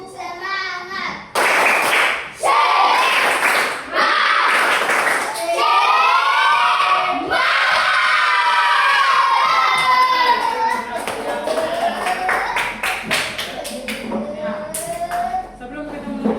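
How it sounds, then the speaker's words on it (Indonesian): Schoolchildren in a classroom perform a rhythmic spirit clap together, loud hand claps mixed with shouting and cheering voices, ending the lesson with bursts of chanting. "Tepuk semangat."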